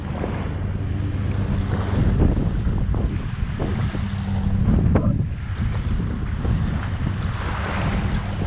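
Strong wind gusting to around 30 rushes across a boat underway, with a continuous roar, microphone buffeting and water noise against the hull, loud and unbroken throughout with no talk.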